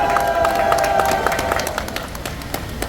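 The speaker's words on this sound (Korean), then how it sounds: "열변을 해주신 강화 유은식 번대위원장님에게 뜨거운 박수 보내주시기 바랍니다" A crowd at an outdoor rally supporting the Seoul–Yangpyeong expressway plan with the Gangha interchange claps and cheers, a dense steady patter of many hands close by with a faint tone ringing underneath.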